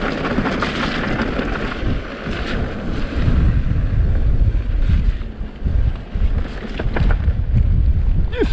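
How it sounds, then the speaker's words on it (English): Cold wind buffeting the microphone outdoors on a misty hike in Snowdonia, loud low rumbling gusts that swell and ease unevenly throughout, with no talking. "Oh, cold wind again."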